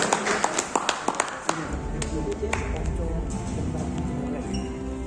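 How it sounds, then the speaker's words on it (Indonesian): Scattered claps from an audience at a regional labour dialogue event open the clip, a few distinct sharp hits in the first second and a half before the sound settles into a murmuring room tone with low hum. "Berikan tepuk tangan yang luar biasa"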